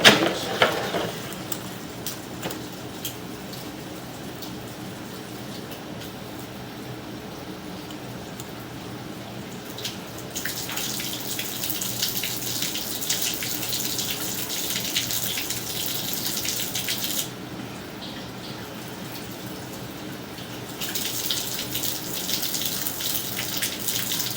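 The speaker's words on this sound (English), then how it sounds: "it does seem like I'm now getting cold water. I'm getting flow" Water runs steadily from a house tap for a long stretch as cold water flow returns, a constant hiss that swells louder in bursts as the flow strengthens, with no talking.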